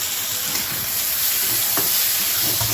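Tomatoes sizzling and frying in a pan for Maharashtrian brinjal bharit (vangyache bharit), a steady close hiss with occasional stirring scrapes and no voices.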